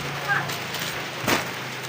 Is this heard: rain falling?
yes